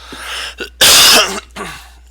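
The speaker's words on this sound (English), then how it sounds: "Pardon me about that cough" A single harsh, close cough bursts out, preceded and followed by softer throat-clearing sounds.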